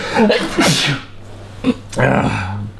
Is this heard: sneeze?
yes